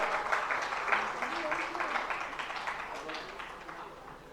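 An audience at a Jain sermon gathering in Agra applauds to welcome a family, a dense patter of many hands that stays fairly faint and gradually fades, with a voice speaking over it.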